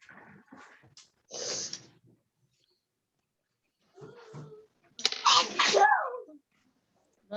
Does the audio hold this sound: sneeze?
yes